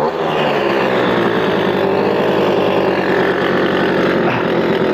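A Verkhovina-2 (LZM MP-046) moped's small engine runs steadily after starting, a loud, continuous buzzing putter with a fast regular firing rhythm, close by and alone throughout.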